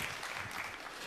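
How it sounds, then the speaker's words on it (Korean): A church congregation at a youth worship service applauds together, a dense, continuous patter of many hands heard at a moderate distance without speech. "하나님께 영광의 박수 함께 올려드리겠습니다."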